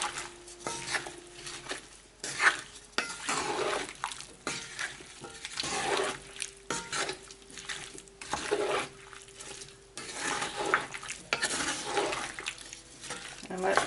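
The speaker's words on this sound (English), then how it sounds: "we're going to put a cover on it after I give it a stir" A spoon stirs potatoes, sausage and shrimp in a pot, giving repeated scraping and clinking strokes in an uneven rhythm with pauses between them, close by and moderately loud.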